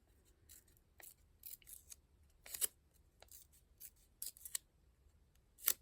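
Paper being torn by hand into a strip for a budget craft journal, heard as a series of short, crisp ripping bursts with pauses between them, close and fairly quiet with no talking.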